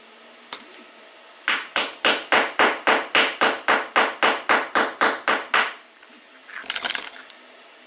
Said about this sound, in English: we just chisel the fuck out of this